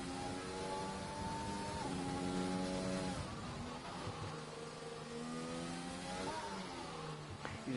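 A Formula 1 car engine in an F1 esports race at the Singapore GP drops and climbs in pitch through braking downshifts and quick upshifts, a close, continuous high whine with clear stepped gear changes.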